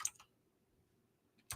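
A computer keyboard clicks in two short bursts of typing at the start and end, with near silence in between.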